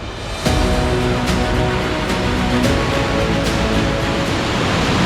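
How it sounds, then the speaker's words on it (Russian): Long ocean waves break on a beach in Rio de Janeiro, a continuous broad wash of surf that swells at the start and then rolls on steadily and fairly loud. "Океанская волна. Длинная!"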